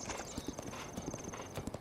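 Horse hooves clip-clop at a steady trot in Breath of the Wild, a light rhythmic patter of close, soft hoofbeats with a faint whinny-like tone and no talking over them.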